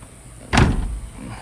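An old project car's door is worked, giving one solid thump or latch clunk at close range followed by a short rattling decay, with no talking.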